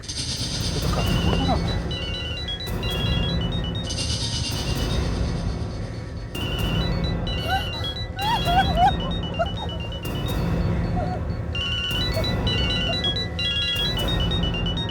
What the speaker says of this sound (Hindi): इसी बैग में से मोबाइल की आवाज आ रही है सर।